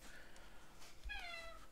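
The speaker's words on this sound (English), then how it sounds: "That's a cat." A cat meows once, faint and somewhat distant, against a quiet room hum near an old desktop computer.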